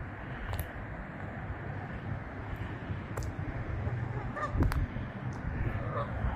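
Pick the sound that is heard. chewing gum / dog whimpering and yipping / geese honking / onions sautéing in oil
geese honking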